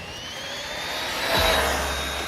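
A Rlaarlo DSK RC car at full throttle builds to a faint, high whine that swells near the middle, then drops in pitch as it passes, heard at a distance over outdoor background hum.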